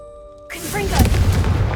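A Confringo fire spell in Hogwarts Legacy goes off after a brief quiet hum, a loud sudden blast with crackling, whooshing debris that stays loud to the end.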